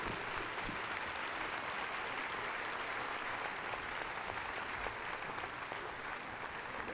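Sustained audience applause at a community charity event, a dense steady wash of clapping from a large crowd lasting throughout without talk.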